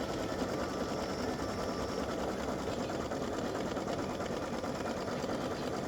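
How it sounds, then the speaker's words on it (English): An embroidery machine stitches an appliqué design for a patriotic or veteran side-seam split pattern, giving a steady, continuous mechanical whir and rapid needle clatter that runs unbroken and close up, with no talking. "I'm going to let this run so you can see how it stitches"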